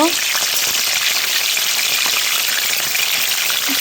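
Eggplant and garlic fry in a pan while being stirred, giving a steady, dense sizzle and crackle that holds at an even level throughout.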